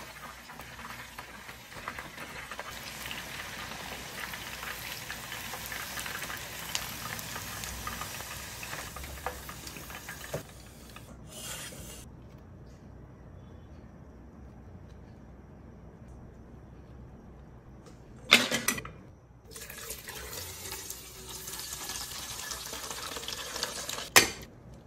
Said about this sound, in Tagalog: haluin natin siya ng very, very light para hindi sila magdikit-dikit at maging clingy sa isa't isa